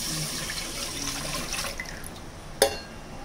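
Milk, one liter, poured into a pot for rice kheer (paal payasam) already holding sugar, giving a steady liquid pour for about two and a half seconds, then a sharp knock near the end.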